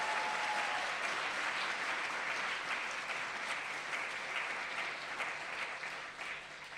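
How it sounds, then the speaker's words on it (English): Audience applause at a student leadership awards ceremony, a dense, steady wash of clapping from a large crowd that continues throughout and fades slightly at the end. "let's just give him an amazing round of applause"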